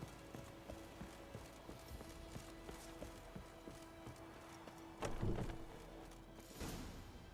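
Geralt's horse Roach from The Witcher 3 gallops in a steady, rhythmic clip-clop of hooves. A few heavier thuds break in near the end over a constant ambient game background.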